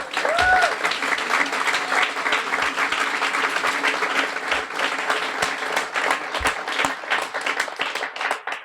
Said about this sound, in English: A warm round of applause for Jolene.